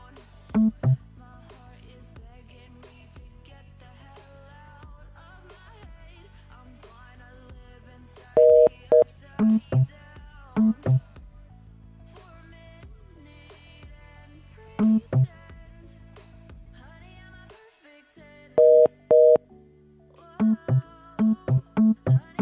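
A telephone dialing machine gives off a series of tones over a quiet line hum: short bursts of pitched beeps in irregular clusters, some paired and louder, separated by gaps of near silence.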